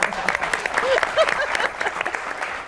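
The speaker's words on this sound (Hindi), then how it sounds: "ये सबसे ज्यादा तालियां उन्होंने बजाई है" Studio audience applause on a talk show, a burst of clapping with a few brief vocal cries mixed in, close and fairly loud.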